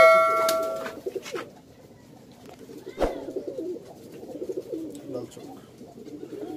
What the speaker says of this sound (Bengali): এই যে লাল চোখ কবুতর এখন আর পাওয়াই যায় না, লাল চোখ কবুতর।